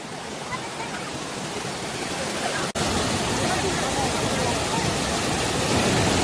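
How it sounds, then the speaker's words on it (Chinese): A powerful waterfall at Jiuzhaigou thunders as a loud, steady broadband roar, with faint crowd voices beneath and one brief dropout partway through. "这里瀑布的声音好大呀！"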